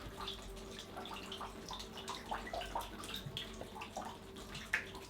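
A faint stream of water flows across a brewery cellar floor, a quiet continuous trickle with small splashes and drips, with no talk over it.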